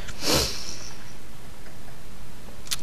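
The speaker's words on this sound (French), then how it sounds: "vaudrait peut-être mieux que je me mouche au lieu de renifler là" A person sniffs once, sharply and up close, followed by quiet room tone and a second, briefer sniff at the very end.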